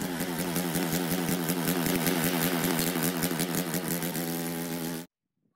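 A snow blower engine runs loud and close in a wintry setting, chugging with an uneven, surging beat before cutting out abruptly into silence near the end.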